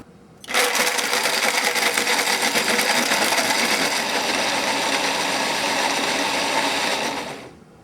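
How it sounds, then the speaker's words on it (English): A Breville blender liquefies a whole orange, a loud, steady motor whir with a dense grinding roar that starts abruptly, holds for about seven seconds, then cuts off. "The Breville blender also liquefied the orange in seconds"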